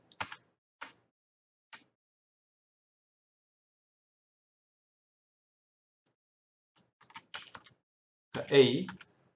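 Bursts of typing on a computer keyboard while coding in JavaScript: a few isolated key clicks early, then a short flurry of keystrokes near the end, close and fairly quiet against near silence.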